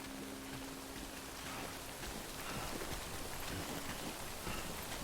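Steady broadband hiss of rain falling continuously, with a faint low hum underneath in the first seconds and no voices.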